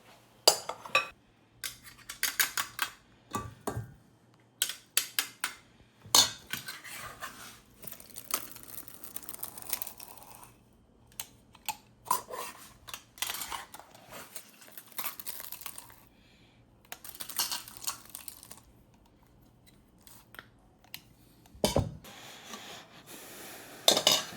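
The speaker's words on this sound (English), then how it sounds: "Use a little squeeze masher thing that I'm gonna use" Cooked sweet potatoes are mashed by hand in a bowl with a squeeze masher, giving repeated soft squishes, scrapes and clinks of metal on the dish in uneven bursts with brief pauses. No one speaks.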